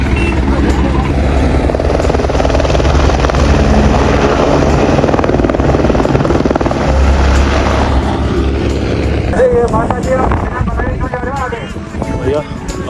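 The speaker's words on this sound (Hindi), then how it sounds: "भैया अपना हेलीकॉप्टर आने वाला" Loud, steady whirring roar of a helicopter at the Kedarnath helipad in the Himalayas, nearby and continuous, with background chatter and a faint reversing beep mixed in.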